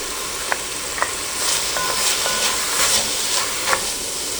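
Garlic and vegetables sizzle steadily in a pan, a close hissing wash with a few light taps and scrapes of a utensil scattered through it.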